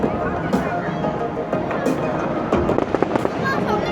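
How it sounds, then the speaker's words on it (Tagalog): Fireworks burst at Shanghai Disneyland, several sharp cracks and pops ringing out, some in quick clusters, over a murmuring crowd and nearby voices. "Ayun, may mga fireworks guys."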